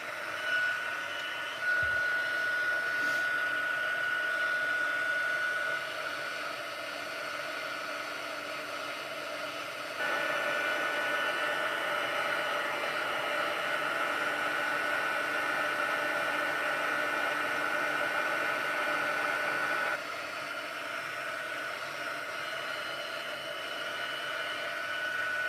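A heat tool dries a stamping project in a long, steady, close whirring blast, with the pitch and level shifting slightly a few times as it is moved; no one speaks.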